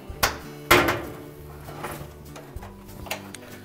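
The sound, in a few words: GE dryer door being opened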